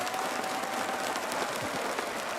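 Applause and cheering from a crowd at a Rainbow Six Siege X reveal event, a continuous dense wash of clapping heard at a moderate distance, steady for the whole stretch.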